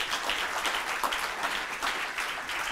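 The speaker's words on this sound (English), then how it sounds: "we can say goodbye with a round of applause" An audience at an academic conference's plenary keynote session gives a round of applause to farewell a speaker, a brief, even patter of many hands clapping at moderate volume.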